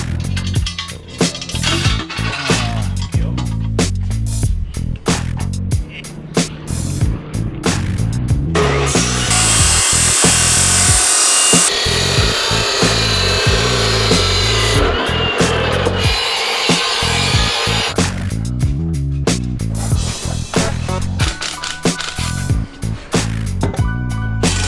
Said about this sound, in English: we've got to drill this hole out just a little bigger.